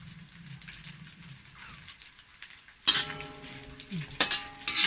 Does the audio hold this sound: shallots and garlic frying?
yes